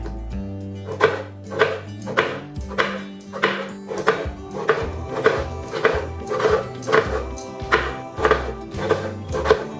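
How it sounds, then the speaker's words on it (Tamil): A knife chops tomatoes into wedges on a board while rasam ingredients are prepared, striking in a steady series of sharp taps over a low background hum. "தக்காளியுமா பாருங்கள் இந்த மாதிரி நம்ம சீப்பு சீப்பாக நல்லா கட் பண்ணி வச்சுருக்குறோம்"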